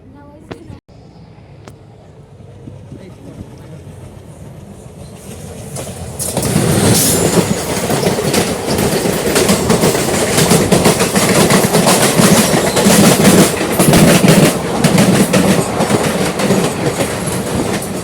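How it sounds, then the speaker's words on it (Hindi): Porbandar Express train rolls along the rails toward Delhi Cantt behind a diesel engine, starting quiet with a couple of knocks, then swelling after a few seconds into a loud, continuous rumble with clattering wheels and brief squeals. "अब हमारी जो ट्रेन है वो दिल्ली कैंट की ओर बढ़ती हुई।"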